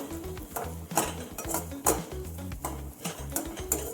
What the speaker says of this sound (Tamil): தேங்காய் பல்லாம் நறுக்கி வச்சுருக்கேன். அதை சேர்த்துக்குவோம். அதை வறுத்து எடுத்துக்குவோம்.